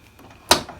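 Car door on a Mazda FC3S being shut after a door handle repair, a single sharp thud and latch near the end after quiet rustling, no talk.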